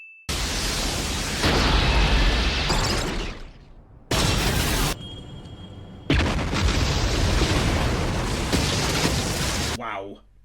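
Loud roaring anime explosions from Gurren Lagann in long bursts, broken by brief quieter gaps, with a heavy rumbling low end and a sharp cutoff near the close.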